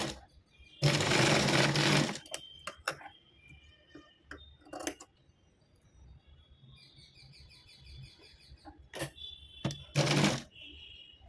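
A sewing machine stitches layered fabric for a blouse latkan in bursts, two loud close runs of rapid stitching with quieter clicks between, while birds chirp faintly in the background.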